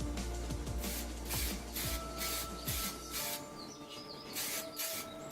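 Aerosol spray can applying a second coat of paint to a wheel in freezing cold conditions, giving several hissing bursts of varying length close to the microphone, with a background hum and faint bird chirps.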